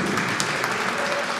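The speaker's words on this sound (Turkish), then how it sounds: "kocaman bir alkış alabilir miyiz?" Crowd applause at a gala night for Fatma Ataş, a full, even roar of many people clapping together, sustained and fairly close, with a few sharper claps standing out.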